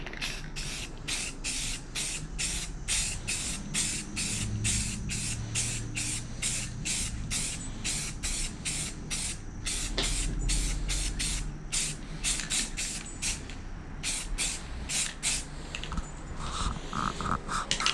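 Spray paint hisses from an aerosol can in rapid short bursts, dozens of quick regular pulses laid on as a third coat over a classic Chevy-themed key cabinet, close up with no voices.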